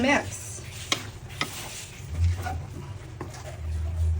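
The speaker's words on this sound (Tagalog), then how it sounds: "Ito guys, pepper. Konti lang. Okay na yun. And then, mix." Pepper being mixed into food cooking in a pan, a low sizzle broken by a few sharp clinks of the spoon against the pan and scraping strokes, with some talk in the background.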